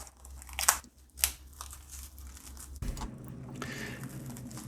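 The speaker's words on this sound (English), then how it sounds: "To remove the plastic, just push your finger through one of the ends and peel it away." Plastic wrapping is pushed through and peeled off a Still Spirits EZ filter cartridge, a few sharp crinkles and tearing rustles followed by softer continuous crackling, close and fairly quiet.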